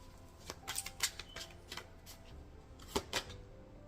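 Tarot cards being shuffled by hand, a string of quiet crisp riffles and soft taps coming in short bursts with pauses, close and faint.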